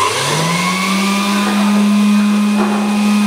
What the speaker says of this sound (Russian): А пылесос нужен, чтобы озвучить пылесос.